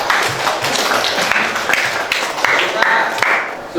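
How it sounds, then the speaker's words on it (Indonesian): A classroom group breaks into applause, a dense run of close, brisk hand claps filling the room steadily for several seconds without talk over it. "kita beri aplaus untuk kita semua"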